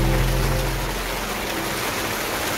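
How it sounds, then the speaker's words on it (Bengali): Steady rain pours down on a masonry building site while a cantilever slab is being concreted, a dense, even hiss of falling water with no pauses, close and fairly loud. "আর বৃষ্টিও চলে এসেছে"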